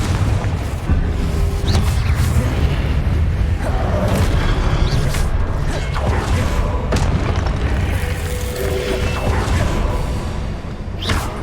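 Confringo fire-spell blasts in Hogwarts Legacy burst one after another in a dense, loud barrage of booms and crackling impacts, with no pause across the whole stretch.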